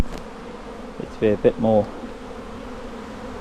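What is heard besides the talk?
bees buzzing around a hive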